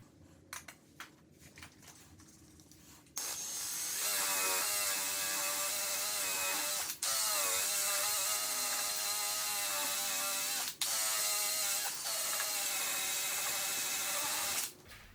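A car exhaust tip is polished with Meguiars Hot Rims metal polish, heard as a loud, continuous mechanical whir with brief stops, after a few quieter scraping taps at the start.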